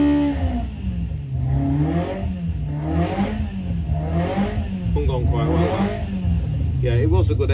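A loud race car engine revs steadily and repeatedly under load on a dyno, its pitch swelling and falling in waves across the clip, close and continuous.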